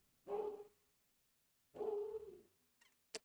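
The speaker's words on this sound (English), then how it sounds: "I don't know if y'all can hear that, but the pup is screaming in the background" A puppy lets out two drawn-out, whining cries with a fainter yelp after them. The sound is moderately loud, comes from off to the side, and is separated by silence.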